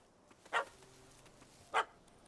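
A puppy in The Witcher 3: Heart of Stone barks twice, two short sharp yaps about a second apart, close and clear over quiet game ambience.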